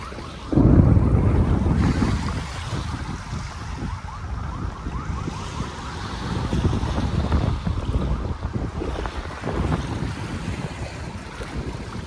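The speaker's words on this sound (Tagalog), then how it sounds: "Yung hampas ng alon dito sa dalampasigan." Waves wash onto the shore of Manila Bay in a steady, loud surge, with wind buffeting the microphone and no voices present.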